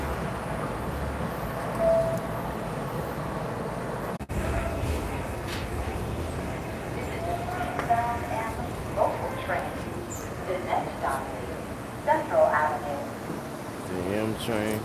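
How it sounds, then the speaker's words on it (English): A New York City M subway train rumbles and hums steadily, with occasional rail clanks and squeals, while someone talks nearby. "The M train."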